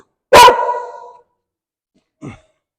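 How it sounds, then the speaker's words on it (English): A dog gives one loud, close bark, then a softer, shorter bark follows about two seconds later. "We're going to teach your dog to bark on command."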